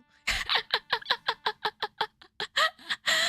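A hawk redeem sound effect plays on a livestream: a run of rapid, evenly spaced clucking squawks, a dozen or so in quick succession, ending in a longer, louder screech, with no talk over it.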